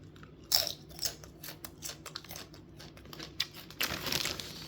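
Thick, light paprika potato chips crunched close to the mouth, a run of crisp bites and chewing crackles with a few sharper crunches, no talking.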